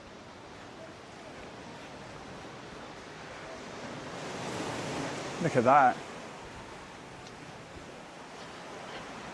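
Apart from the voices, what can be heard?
waves crashing below clifftop castle ruins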